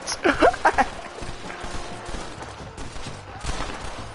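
Gunfire in the Red Dead Redemption western game: a quick burst of several sharp shots at the start, then a few scattered later reports over low ambient game sounds.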